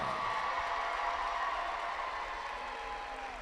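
Crowd at a girls 12th Region basketball championship between DCA and Rockcastle County applauds in a steady, dense wash of clapping that slowly fades over a few seconds in a large gym.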